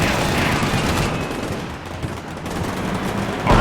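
Dense gunfire from the video game Combat Mission Shock Force 2 during a battle in Fallujah, with continuous overlapping bursts and rattling shots forming a loud, sustained roar.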